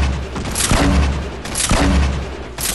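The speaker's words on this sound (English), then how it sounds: "Oh, my grenade blew up and killed him in air." Loud, booming explosion blasts from a grenade in the video game Fortnite, two heavy rumbling hits about a second and a half apart, with a third starting at the end.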